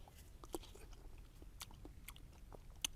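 Someone bites and chews a piece of native dwarf papaya, giving a few soft crisp bites and quiet chewing sounds up close over a low background hum, with no talking.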